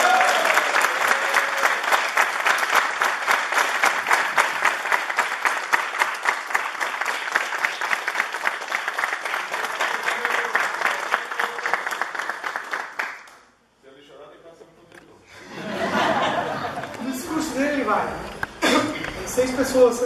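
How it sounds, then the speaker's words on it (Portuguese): A round of applause fills a jiu-jitsu academy belt graduation ceremony, dense steady clapping for about thirteen seconds before stopping abruptly, followed by a quieter stretch where voices and scattered crowd sounds return. "E a salva de palmas não só pelos graus, né, mas pela pessoa que ele é."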